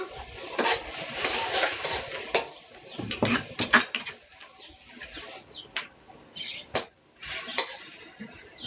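Ingredients being dry-roasted in oil in a pan, shallots and lemongrass going in: repeated sharp clinks and scrapes of a utensil against the pan with light background sizzle, close by, no talking.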